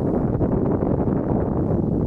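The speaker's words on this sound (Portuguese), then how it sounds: "Ventando bastante aqui, ó." Strong wind buffets the microphone at an airport at sunset, a steady, loud low-frequency roar filling the scene without pause.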